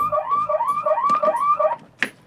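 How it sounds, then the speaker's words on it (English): An infrared driveway alarm aboard a boat sounds off with a loud, repeating electronic warble of rising and falling chirps, then cuts out, followed by a single short click. "a driveway alarm, and these are infrared sensors, which I can place all over the boat"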